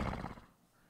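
A person imitates a horse's neigh with a single short whinny that tails off within half a second, heard close but faint and alone.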